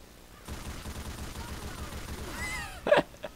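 Heavy mounted machine gun firing in Left 4 Dead 2, a rapid steady rattle of shots that runs for a few seconds, followed by a short gasping voice near the end.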